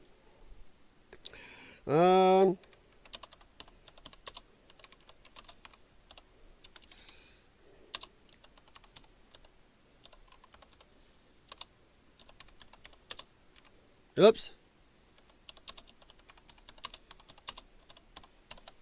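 Computer keyboard typing and mouse clicking, heard as sparse, faint, irregular clicks spread across a quiet room, with a brief louder tonal burst early on, another sharp sound later, and a single short spoken word.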